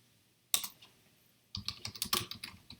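Code is typed on a computer keyboard: one brief burst of key clicks, a pause, then a quick run of close, crisp keystrokes.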